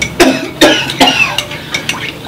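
An older man coughs repeatedly, five or six harsh, chesty bursts at an irregular, fitful rhythm, loud and close, alone in an outdoor lakeside setting.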